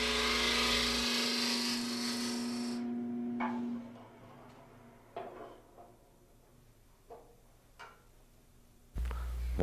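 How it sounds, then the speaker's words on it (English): Wood lathe spinning a capsule box blank while a turning gouge cuts, first a loud steady whirring cut, then the motor winds down, leaving a few faint knocks and taps before a brief loud burst at the end. "Another pass with the gouge, getting us closer and closer to our desired form."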